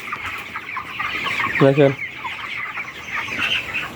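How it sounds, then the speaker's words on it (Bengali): Farm chickens cluck softly and steadily in a coop darkened by a power cut, with one louder, closer cluck in the middle and a voice speaking briefly. "মুরগি খুব সুন্দর মুরগি হয়েছে মাশাআল্লাহ।"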